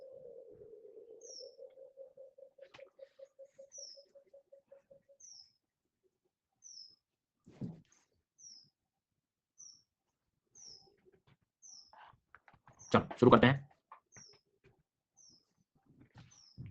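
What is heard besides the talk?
bird chirping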